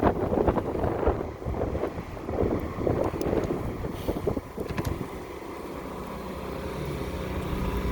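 Wind buffets the microphone while riding an electric bike, heavy rumbling gusts for the first few seconds easing into a steadier, softer rush.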